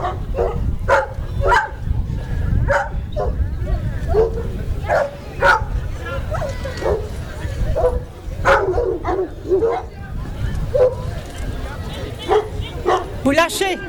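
A dog yaps and barks repeatedly in short bursts, mixed with whimpers, over steady background noise and nearby voices at a water rescue dog demonstration in Talmont-Saint-Hilaire, France.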